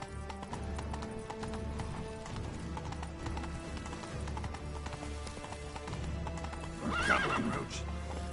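Roach, the horse in The Witcher 3, gallops with a steady, loud drumming of hoofbeats throughout, ending in a sharp neigh near the close.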